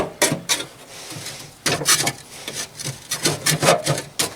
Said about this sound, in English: Scrape it all out of the way.